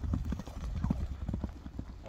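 Hooves of a racing horse clip-clop in a quick, steady rhythm at a gallop, fairly close, while someone talks over them.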